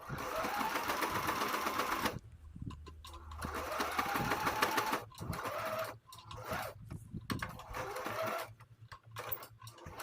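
A sewing machine runs steadily, stitching the handle of a handmade bag, with a dense mechanical whir that stops briefly twice and starts again, close and fairly loud, no voice over it.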